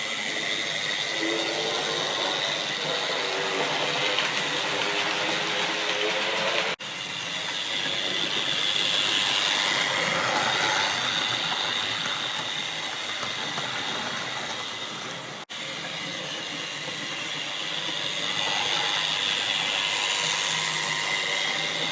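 A model railway locomotive with shiny chrome-plated wheels struggles and slips while hauling four coaches along the track, producing a continuous close, jerky mechanical whirring and grinding with ratchet-like clatter, briefly dipping twice; no voices.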